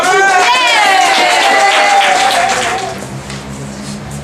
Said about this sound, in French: on fait un tonnerre d'applaudissements pour les nomades